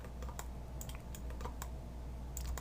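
Computer keyboard keys pressed while working in Maya 2020 nCloth software, a steady run of quick, light clicks with short bursts, close and fairly quiet, no talking.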